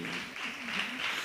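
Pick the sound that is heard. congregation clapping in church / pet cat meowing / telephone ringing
congregation clapping in church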